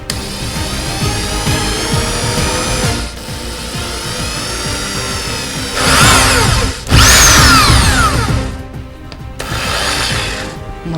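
A power drill driving screws into aluminium while a water electrolysis hydrogen generator is being assembled, a loud continuous whine with rising and falling pitch as the motor speeds up, strains and stops, with a couple of brief pauses.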